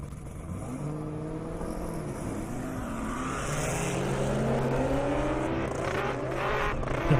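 A ZL1 Camaro and a Mustang drag race down an airport airstrip, engines revving and rising in pitch through the gears as they accelerate away, a loud continuous roar with no voices.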